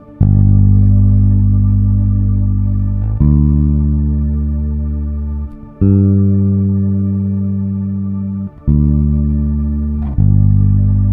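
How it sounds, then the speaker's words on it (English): Bass guitar plucking a steady low fourth against D, struck four times with each note ringing out and slowly fading, heard alone. "Listen to how the 4th sounds."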